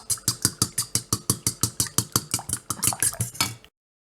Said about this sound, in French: 4 œufs, une brique entière de crème fraîche et on vient mélanger déjà tout ça